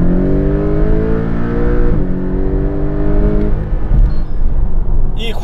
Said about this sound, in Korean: 풍부한 토크를 바탕으로 맹렬한 그런 가속을 펼쳐나갑니다